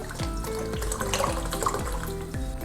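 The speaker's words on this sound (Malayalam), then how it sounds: "ഇതിലൊരു 3/4 ലിറ്ററോളം വെള്ളം ഒഴിക്കുക കേട്ടോ" About three-quarters of a litre of water pours steadily into a pan while pickling eggs. A continuous running splash plays under soft background music, with no talking.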